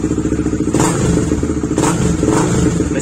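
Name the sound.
motorcycle engine revving through muffler, GTR 150 with racing ECU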